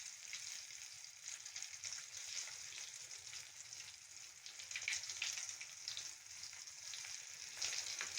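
Beef shami kebabs fry in hot oil in a pan, giving a soft, steady sizzle with scattered crackles that continues evenly throughout, faint and without talk.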